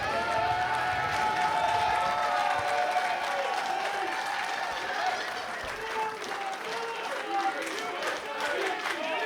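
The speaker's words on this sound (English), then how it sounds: "Look at this crowd giving their due to these two heavyweights." A wrestling crowd in an indoor venue applauds two heavyweight wrestlers after their match, with sustained clapping and cheering from many people and a commentator talking over the crowd noise.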